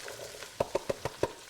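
Celery and onions cooking in a pan make a soft sizzle, broken by about seven evenly spaced stirring scrapes and knocks over a second and a half, close and fairly quiet.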